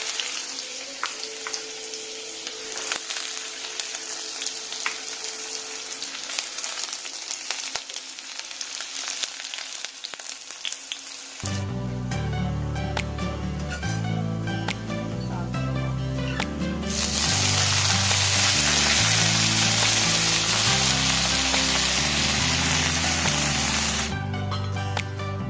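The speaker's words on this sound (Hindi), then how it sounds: "तेल गरम होने पे इसमें थोड़ा सा सूखी मिर्च और ये रहा लहसुन चॉप करके रखा है, ये इसमें डाल देना" Garlic and dried red chili frying in hot oil make a faint hiss that grows into a steady, brighter sizzle, partly buried under music that starts midway.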